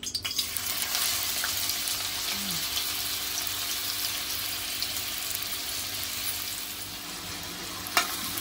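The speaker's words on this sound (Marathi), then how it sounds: "तेल गरम झालेलं आहे, कांदा घालायचा आहे।" Steady hissing sizzle of onion frying in hot oil, close and even throughout, with a single sharp clink near the end.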